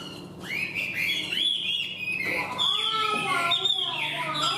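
Chinese hwamei songbirds kept in a box sing loud, varied whistled phrases and trills close by, with chirps piling over one another against a murmur of background voices.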